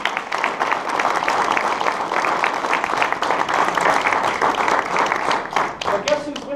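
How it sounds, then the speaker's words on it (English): A crowd breaks into sustained applause, steady clapping filling the room for several seconds. "Let's give him a huge round of applause."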